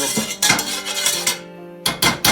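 A metal spoon scrapes around the inside of a saucepan of boiled rice in a restaurant-style kitchen. A few loud, close, gritty scrapes come in quick bursts, with a brief pause before the last strokes.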